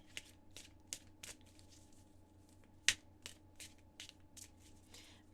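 Oracle cards being shuffled, a series of crisp riffling snaps and flutters at a steady pace, one sharper crack midway, close and fairly quiet over a low background hum.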